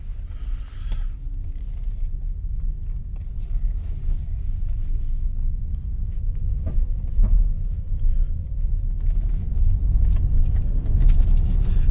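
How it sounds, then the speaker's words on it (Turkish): A Renault ZOE electric car pulls away hard with high torque, its low road rumble and drivetrain noise building steadily and growing louder over about twelve seconds, heard from inside the cabin with no talking. "yüksek torkla kalkış yapıyor"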